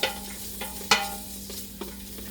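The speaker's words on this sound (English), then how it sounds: "I'm going to let it brown just a minute or two. And basically, I cook it with the shallot to get the flavor out" Meat browning with shallot in a pan while making hot and sour soup, a steady close sizzle broken by a few sharp stirring scrapes about every half second to second, with no talk.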